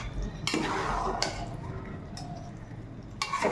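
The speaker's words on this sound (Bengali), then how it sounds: "ঘিটা দিয়ে আমি ভালো মতো মিক্স করে দিচ্ছি।" Ghee being stirred through vegetarian jackfruit biryani in a pot, with a few sharp scrapes and clinks of a spoon against the metal at intervals over a low background.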